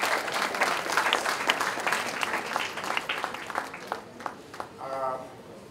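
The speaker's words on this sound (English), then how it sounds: "Please, a round of applause for her." Audience applause fills a gender studies conference hall after a presentation, a dense sustained clatter of many hands that gradually thins and fades toward the end, with a voice briefly emerging at the close.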